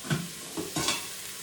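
Buckwheat and mushrooms browning in a pan for a vegan risotto, a soft frying sizzle broken by three short stirring scrapes, close and fairly quiet with no talking.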